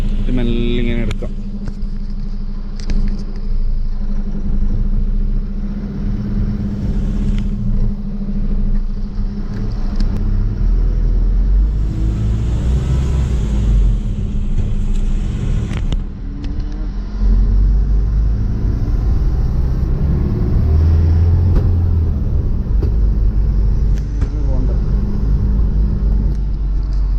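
An Eicher 19-seat bus engine pulls away in gear, a loud, steady low rumble that swells as it gets moving, with someone talking over it throughout.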